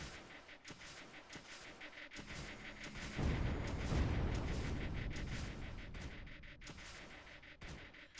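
Guns and launchers fire in the strategy game Creeper World 2, a faint run of soft repeated booms and thuds over a low rumble, swelling briefly in the middle before thinning out again.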